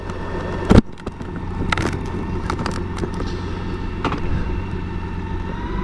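A BMW K1600 GTL motorcycle rides onto the autobahn, its engine a steady low drone under wind rush, with a sharp knock early on.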